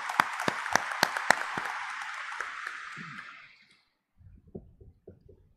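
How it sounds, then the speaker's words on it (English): Congregation applause inside Manila Cathedral during a daily weekday Mass, a dense burst of clapping with a few sharp claps standing out, lasting about three seconds before fading into faint room sounds and quiet shuffling. "Let us give them a warm round of applause."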